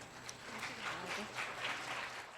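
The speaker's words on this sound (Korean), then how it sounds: "여러분들을 격려하고 환영하시기 위해 참석한 의장님께 다시 한번 큰 박수 부탁드립니다" Faint crowd applause at a youth council closing ceremony of the Gyeonggi Provincial Council, greeting the council chairman; a steady patter of clapping runs throughout at low level, with a faint voice underneath.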